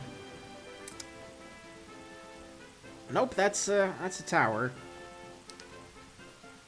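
Heavy in-game rain in Pokemon White hisses as a steady, even wash throughout, while someone talks over it in the middle.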